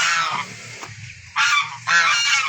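Rhode Island White crossed with White Leghorn chickens in a backyard flock make loud, close, harsh squawking calls in several bursts.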